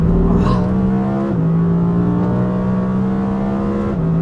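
A new Audi R8 GT with a V10 engine driving fast on a race track makes a loud, sustained engine roar heard from inside the car, with brief pitch dips at gear changes.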